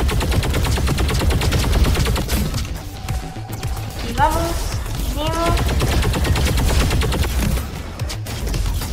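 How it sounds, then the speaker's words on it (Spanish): Gunfire in a shooting video game rattles in dense bursts and fusillades, punctuated by a few thuds, while someone talks excitedly over the shots. "Esquivamos los balazos."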